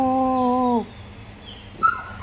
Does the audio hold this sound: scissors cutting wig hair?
no